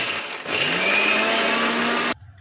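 A mixer grinder whirs loudly as it grinds soaked split green moong dal with its skin, running up to a steady high-pitched drone and then cutting off abruptly, with no talking over it.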